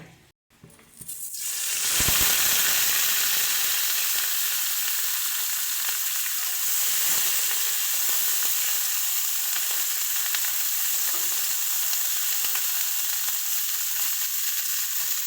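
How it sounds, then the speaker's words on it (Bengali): Steamed broccoli drops into hot oil and erupts into a loud, steady sizzle that holds strong and close throughout, with faint scraping underneath. "তেল আমাদের ভালো মতন গরম হয়ে গেছে এবারে দিয়ে দিচ্ছি আগে থেকে ভাপিয়ে রাখা ব্রোকলিটা"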